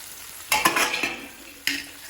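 A spoon stirs tapioca noodles cooking in a pan of boiling salted water, a burst of close scraping and clattering strokes followed by one more stroke after a pause, with no voices.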